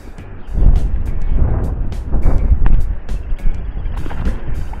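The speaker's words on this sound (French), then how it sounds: "il y a du vent" Heavy wind buffeting an outdoor microphone during magnet fishing, loud low rumbling gusts that swell and fade continuously with no other clear sounds.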